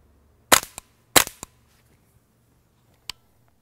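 Suppressed subsonic gunshots ring out outdoors during puppy training: two sharp pairs of muffled cracks close together early on, then a single fainter shot a couple of seconds later, with no talking in between.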